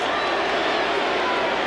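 Dense, steady roar of a large football crowd filling the stadium in Columbus, loud and continuous with no distinct breaks, voices blending into a broad wash of noise.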